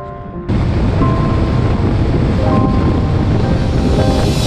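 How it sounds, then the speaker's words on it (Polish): Strong wind buffets the microphone during a motorcycle ride through the countryside near Rogalin and Zbrudzewo, a loud continuous roar that starts abruptly after a brief quieter moment and holds steady throughout with no talk. "Nie wiem, czy mnie słychać, bo strasznie wieje."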